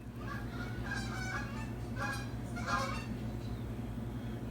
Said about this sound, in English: Goose break.